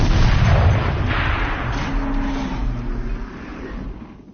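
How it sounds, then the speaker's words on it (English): A tank turret fires in Horizon Zero Dawn, a heavy booming shot with a low rumble that slowly fades over a few seconds, with no talk over it. "Rotate turret! And fire!"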